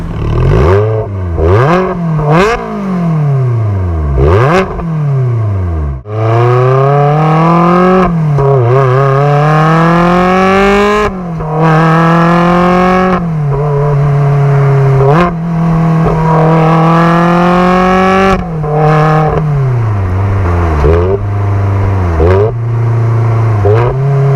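A stock Ferrari 360 Spider with a gated manual gearbox, driven on the road, revs hard through the gears. The loud, close engine note climbs repeatedly and drops at each shift, with a few quick blips between.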